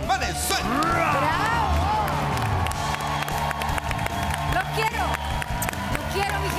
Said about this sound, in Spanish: El aplauso para la diva, mi querida María Elena Valenzuela.